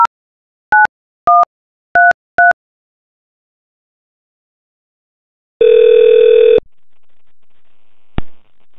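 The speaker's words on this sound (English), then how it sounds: "Now dialing one number." A softphone registered to an IP PBX dials a number: five short two-tone keypad beeps in quick succession, then after a pause a loud, steady tone lasting about a second, followed by a brief click.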